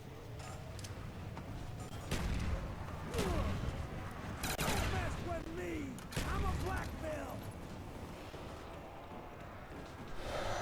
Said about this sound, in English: Oh, I think it is fully automatic. I'm just shooting it like as if it was a burst